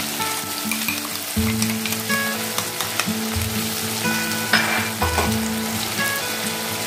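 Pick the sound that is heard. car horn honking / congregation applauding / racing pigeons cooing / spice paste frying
spice paste frying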